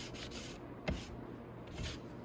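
Painted motorcycle parts from a Venom 250cc Villain chopper restoration are sanded by hand to remove small imperfections, giving a few close, short rubbing strokes with a brief scuff near the middle.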